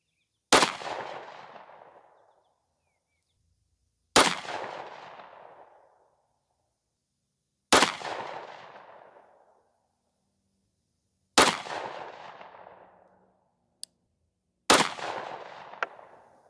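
Five single shots from a Glock 43X pistol firing Federal HST 9mm 124-grain +P rounds, each a loud sharp crack with a ringing decay, spaced about three to four seconds apart with silence between.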